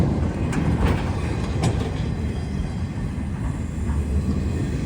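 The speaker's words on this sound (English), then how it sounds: "Got a Canadian National Rail coming up here too." A Canadian National Railway train passes close by in heavy snow, a steady loud rumble of wheels and cars with faint rhythmic clicks over the rail joints.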